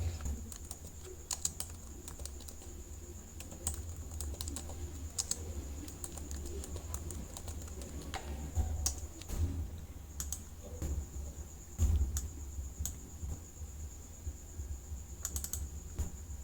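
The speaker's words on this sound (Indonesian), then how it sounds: "Misalnya di sini saya ketik" Rapid, light clicking of keys on a computer keyboard during Excel work, typed in quick uneven bursts at close range over a quiet room hum, with faint bird cooing audible in the background.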